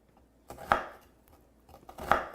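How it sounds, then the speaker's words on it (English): A chef's knife chopping through an onion on a cutting board, heard as two distinct close chops about a second and a half apart, with quiet handling sounds between them. "when you're chopping, now you want to do up and down"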